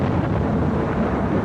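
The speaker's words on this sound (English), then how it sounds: "the storm clouds gathered, and a lightning storm shattered the jollity of the wedding celebrations" Steady, heavy low rumble of thunder from a lightning storm, loud and continuous for its short length with a broad roaring texture, heard alone with no voices.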